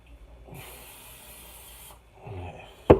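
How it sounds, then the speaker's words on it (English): Cooking spray sprayed onto a pan, one close hiss lasting about a second and a half, then a faint rustle and a sharp clack. "We're gonna spray our pan,"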